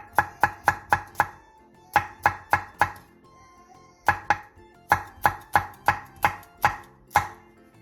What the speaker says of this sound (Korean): 고명으로 올릴 홍고추와 청고추를 쫑쫑 썰어주세요.